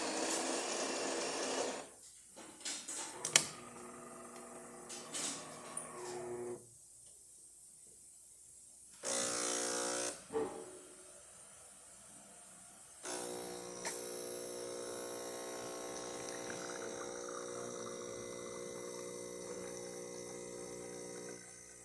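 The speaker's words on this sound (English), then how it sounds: "Here's the espresso shot." A DeLonghi Magnifica espresso machine pulling an espresso shot, with a steady pump hum and liquid hiss, a brief loud grinding or steam burst midway, and a sustained whirring pump phase afterward, close and alone.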